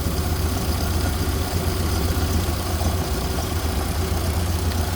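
A 1931 Ford Model A four-door sedan's carbureted engine idles steadily and smoothly, a low, even rumble with a constant mechanical hum throughout, close by.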